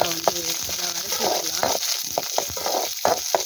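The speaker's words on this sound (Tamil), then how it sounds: "சின்ன வெங்காயம் வந்து நல்லா வந்து எண்ணெயில் நல்லா வதங்கணும்" Small onions frying in oil with cumin and curry leaves, a close, fairly loud crackling sizzle broken by short bursts of stirring and spattering throughout.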